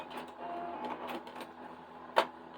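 A sewing machine stitching straight down a line while piecing a quilt block, giving a faint, rapid mechanical whir and tapping, with a brief sharper clack near the end.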